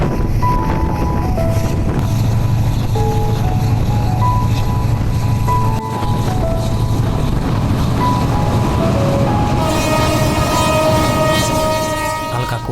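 A Dhaka-Chittagong passenger train running through the Sitakunda area, heard from its roof: a loud, continuous rumble and wind-buffeted roar with tonal squeals and whines rising over it, steady throughout with no talk.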